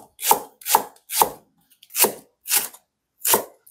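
A knife slices green onion on a cutting board for a Korean beef soup, with six crisp, evenly spaced chops ringing out close up and separated by short silences.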